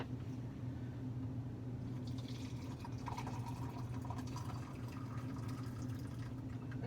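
Boiled water from a kettle pours steadily into a brewing vessel for an American ale, a continuous close liquid rush that rises slightly in pitch partway through.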